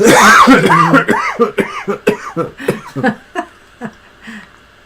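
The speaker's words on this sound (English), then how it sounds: "No, I'm coughing." A string of rough coughs from one person close by, starting heavy and voiced, then trailing off into shorter, fainter bursts that edge toward laughter.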